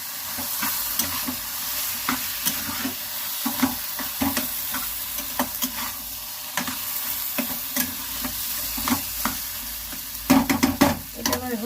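Fish being stirred with mustard spice paste in a frying pan: a loud, close sizzle under repeated scraping and clanking strokes of a spatula, irregular and busier toward the end, with no talking.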